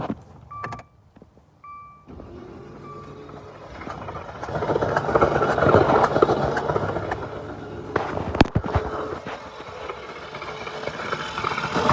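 2016 Dodge Dart 2.4 engine with a blown head gasket cranking over with its spark plugs removed, a whirring, rhythmic mechanical churn that builds after a few clicks and runs steadily close by.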